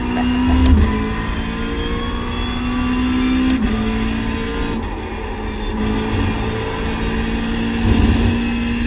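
Race car engine holding a steady high-pitched drone under throttle in the iRacing simulator, close and loud, with slight pitch swells and dips as the throttle is worked through corners.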